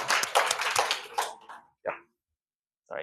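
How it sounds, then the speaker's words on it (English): Brief audience applause at a greenhouse gas workshop: a short burst of close clapping that trails off, followed by silence and a couple of isolated claps. "can give round of applause?"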